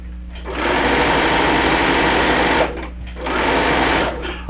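A close, loud sewing machine hums in two sustained runs separated by a brief pause, its motor whir steady and mechanical during a quilting appliqué session.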